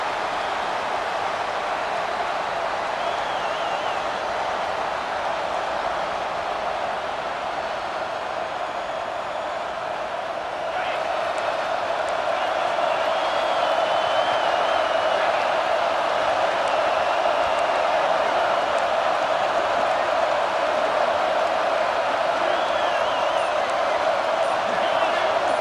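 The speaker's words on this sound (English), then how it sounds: "with this place rocking, the crowd forces a false start" Stadium crowd in EA Sports College Football 26 roars as a steady, dense wall of noise, swelling louder about halfway through and staying loud to the end, with no voices standing out above it.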